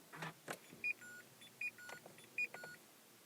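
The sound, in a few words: Dacia Duster ignition switched on, warning chimes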